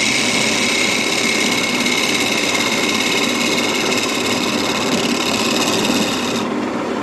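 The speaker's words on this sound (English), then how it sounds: "just a quick scrape here, where just tidy up this edge" A steel chisel scrapes along the edge of a wooden bowl built from compound staves, giving a steady, close rasping that runs unbroken for about six seconds and then eases off. Nobody speaks.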